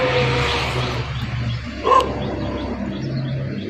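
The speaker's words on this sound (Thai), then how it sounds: "หมาก็เห่าเพิ่งเคยเจอกัน" A dog barks once at close range outdoors in the Thai countryside, a single sharp burst over steady low background hum.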